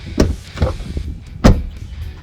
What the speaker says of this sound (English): hand in the door handle, and it unlocks